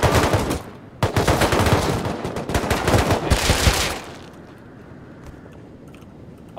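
Rapid automatic gunfire from the Rust survival game crackles loud and close in dense bursts for about four seconds, then gives way to quieter ambient game noise.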